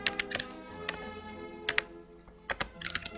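Keystrokes tap on a computer keyboard in scattered short bursts, close and crisp, separated by quiet pauses, over a faint steady background hum.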